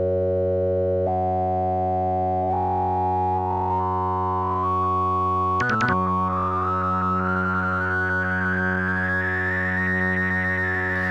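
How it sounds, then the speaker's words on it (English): A sustained three-oscillator organ tone from a Sequential Prophet-600 synthesizer with rich stacked harmonics, its pitch sliding and stepping upward, with a brief glitchy burst midway. "For your 3 oscillator organ tones."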